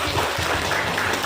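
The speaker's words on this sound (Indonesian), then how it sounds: "tepuk tangan yang meriah untuk Ibu Erma" Audience applause for Ibu Erma, a short burst of dense, steady clapping that fills the space at even loudness throughout.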